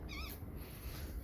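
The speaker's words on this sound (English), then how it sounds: "Somebody's cat. We have a lot of stray cats in the area." A stray cat in a June garden lets out a short meow near the start, fairly faint against quiet outdoor background.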